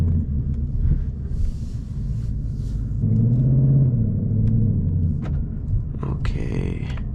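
A 2024 Ford Mustang GT rumbles low while driving. Midway a brief rising engine swell comes through, heard from inside the car, with scattered clicks and cabin noises around it.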